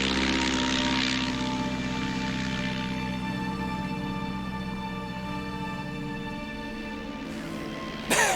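A Tiger Moth biplane drones overhead, its propeller engine a steady buzzing hum that is loud at first and slowly fades, with a brief bump at the very end.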